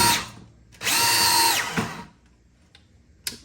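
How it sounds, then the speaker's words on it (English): A power drill with a masonry bit spins up and whines loudly for about a second while drilling a hole in a garage ceiling, then stops, followed by a few knocks and handling clicks. "I'm gonna drill. I'm gonna use this bit. It's a masonry bit"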